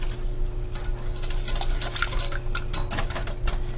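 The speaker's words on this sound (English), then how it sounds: "Whisk, whisk, whisk." A whisk working through soup ingredients in a pot over low heat, making a steady scraping and clinking of metal against the pot with busy, continuous stirring strokes, close and fairly loud, with no talking.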